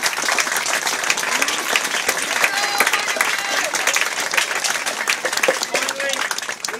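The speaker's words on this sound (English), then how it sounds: "Let's give them a round of applause." Lively round of applause for youth soccer coaches after an under-13 team's second-place finish, with individual claps standing out from a medium crowd and people talking and cheering through it.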